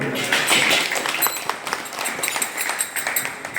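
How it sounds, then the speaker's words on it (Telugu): Applause from a gathered crowd at a felicitation ceremony in an ashram, a dense patter of many hands clapping that thins into scattered claps. "అంటే చప్పట్లు."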